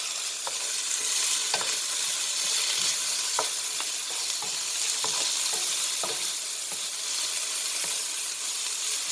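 Chopped ginger and garlic fry in a pan for Mongolian pork, giving a steady, loud sizzle with scattered sharp clicks of stirring throughout, no voices.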